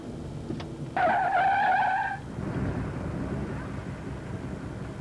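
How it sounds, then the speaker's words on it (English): A truck skidding to a stop with a loud tire squeal lasting about a second, then fading into engine rumble and road noise. "Stop the truck."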